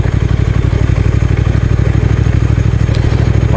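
Triumph Speed Twin motorcycle riding in third gear at about 30 km/h on a tight mountain road in the Alps, its twin-cylinder engine giving a loud, steady, throbbing drone close to the microphone throughout.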